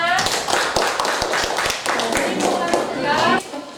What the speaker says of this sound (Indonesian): Kasih tepuk tangan untuk kawannya